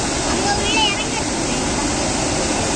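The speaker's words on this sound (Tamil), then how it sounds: "தண்ணி நிறைய போயிட்டு இருக்குல்ல" A river flows strongly on a rainy day, a loud, constant broadband rush of water with brief faint voices near the start.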